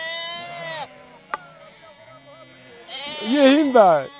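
A sheep bleats loudly and wavers close by near the end, after a quieter bleat at the start, with a brief knock in between, outdoors on pasture.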